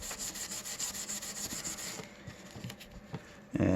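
Steel wool rubs rapidly back and forth over the frets of a Gretsch Jim Dandy guitar, making a close, scratchy rhythmic scrubbing that slows into a few separate strokes and ends in a brief knock.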